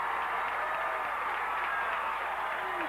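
Willard basketball crowd in a gym breaking into steady applause and cheering after a block, a dense wash of clapping that holds at even volume for a few seconds.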